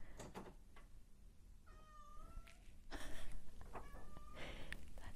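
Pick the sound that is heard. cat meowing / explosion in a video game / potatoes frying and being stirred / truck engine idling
cat meowing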